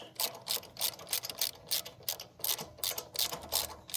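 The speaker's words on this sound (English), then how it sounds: "And then just gonna keep ratcheting it until it's loose and comes out." A hand ratchet clicks steadily as it loosens the spark plug on a Generac 7500e generator, a fast, regular run of close metallic ticks in repeated strokes with no voices.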